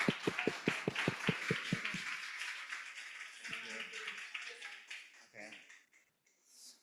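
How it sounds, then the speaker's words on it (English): Audience applause at a summit talk at FabCafe Tokyo, opening with a quick run of sharp individual claps that blends into a steady wash of clapping, then thins and fades toward the end. "give a warm round of applause for Arthur"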